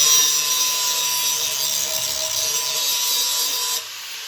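A file or sharpening tool makes steady, continuous rasping passes across the top of a Kubota TG1860G mower blade, close and fairly loud. The grinding scrape runs with no talk and drops off sharply near the end.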